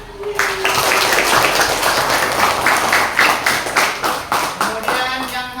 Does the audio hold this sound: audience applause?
yes